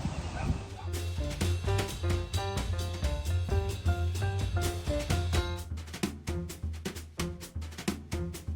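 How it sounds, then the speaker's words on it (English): Several dogs bark in a garden yard, repeated loud close barks and yips in a quick rhythmic run that grows sharper and more spaced toward the end. "the dogs are about to go off"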